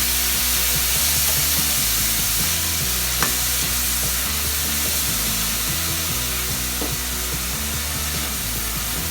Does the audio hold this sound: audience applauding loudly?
no